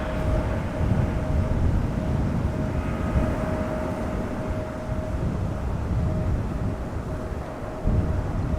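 A GE-powered jet airliner at Amsterdam Schiphol Airport gives off a steady, loud, broadband engine roar with a faint whining tone, sustained throughout with gusty wind noise and no talking.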